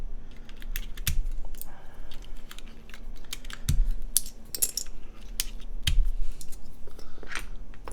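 Mechanical keyboard keycaps handled and set down, giving scattered close plastic clicks and clacks with a few soft thumps over a faint background hum.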